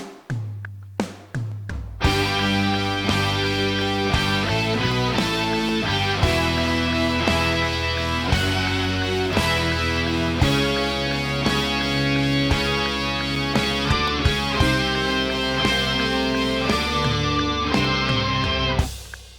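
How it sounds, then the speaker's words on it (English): Distorted electric guitars play a melodic line in harmony, loud and sustained, with rhythmic picked notes after a brief sparse opening. "I love harmonizing guitars, it's a lot of fun."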